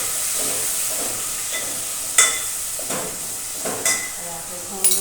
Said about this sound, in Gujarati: હવે આપણે ટામેટા અને મરચાં નાખી દઈશું